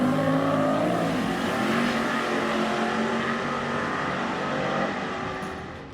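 A Holden VE Ute eight-second drag street car with a big-horsepower LS engine accelerates hard, its loud roaring exhaust rising steadily in pitch through the gears, close and continuous with no talking.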